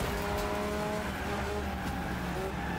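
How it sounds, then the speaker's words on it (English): A compact car's engine in a Wreckfest figure-8 demolition race, a revving, whining drone with shifting pitch and rough rumble underneath, fairly close and continuous. "I hear something with the big engine behind me"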